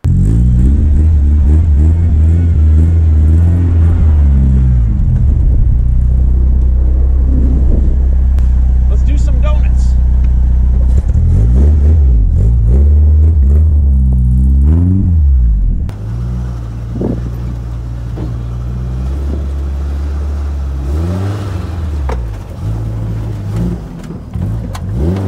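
A 1931 Ford Model A coupe hot rod engine rumbles loudly close by, revving up and down in surges as it is started and driven over snow, with a steady low drone and speech present at times.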